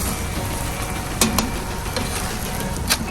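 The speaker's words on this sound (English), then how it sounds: "Let's mix it one last time." Green rice (bahsh) gets a final stir in a kazan over the fire, with a continuous soft sizzle and a couple of brief utensil scrapes.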